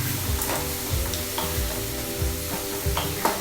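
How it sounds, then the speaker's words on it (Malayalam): Aval (flattened rice) upma sautéing in a pan gives a soft continuous sizzle, with a spoon stirring and scraping in several quick passes; no one speaks. "നന്നായി ഒന്ന് സോട്ടായി വരട്ടെ"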